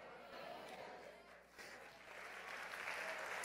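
Soft, distant applause from a church congregation during a sermon, a low steady wash of clapping that swells slightly near the end, with some indistinct crowd noise.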